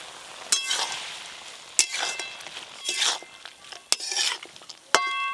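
Fried greens, potato and eggplant are stirred in a pan, with several sharp metal spatula clinks and scrapes spaced about a second apart over a soft continuous sizzle.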